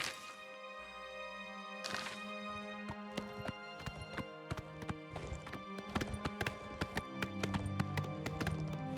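Horse hooves galloping in Oblivion Remastered as a black horse carries its rider, a steady rhythmic clip-clop of many close, sharp hoofbeats running the whole time, with no talking.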